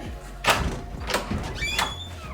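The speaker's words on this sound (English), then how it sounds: "it asks me to manually unlock the deadbolt and open the door" A deadbolt is turned by hand on a Wyze smart lock and the front door is pulled open, giving a few sharp clicks and thunks spread over a couple of seconds, moderately loud against a quiet room.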